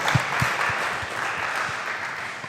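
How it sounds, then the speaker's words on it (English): An audience at a robotics lecture applauds the incoming speaker, a dense, even wash of many hands clapping together at close range. "let's give an applause"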